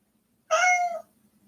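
A single clear cat meow played from an Amazon Alexa smart speaker, short and rising, sounding slightly electronic against a quiet background hum.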